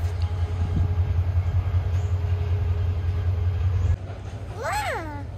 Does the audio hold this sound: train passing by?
yes